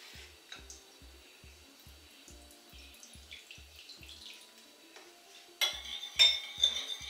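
Tropical salad being tossed with vinegar dressing, giving soft clinks of utensils against a bowl and wet stirring sounds, steady and close, growing louder and busier near the end.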